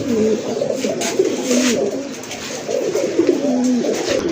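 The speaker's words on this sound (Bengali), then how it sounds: "কবুতরগুলো তো দেখতে পাচ্ছেন খুবই অ্যাক্টিভ আছে" Pigeons at a breeding farm coo repeatedly up close, their low throaty calls overlapping steadily over a busy background.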